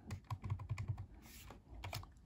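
Quick clicking presses on a graphing calculator's arrow keys, close and crisp, a rapid run of taps followed by a pause and a couple more presses.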